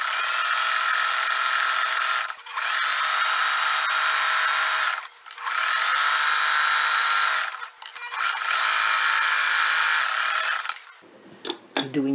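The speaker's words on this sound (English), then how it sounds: "I am going to do a zigzag around this entire piece on both pieces" A sewing machine zigzag-stitching around pieces of a man's shirt fabric being upcycled into a women's top, running in three long steady mechanical whirring bursts with short pauses between them, close and alone, then handling noises at the end.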